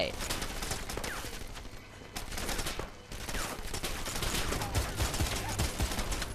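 Gunfire from the video game Wanted: Weapons of Fate crackles in rapid bursts of shots throughout, dense and fairly loud, with a brief lull near the middle.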